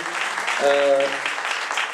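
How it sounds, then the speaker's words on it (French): A conference audience applauds the organizing team with steady clapping, and a brief voice or tone rises over it midway. "je pense qu'on peut les applaudir d'avoir organisé cette conférence aujourd'hui"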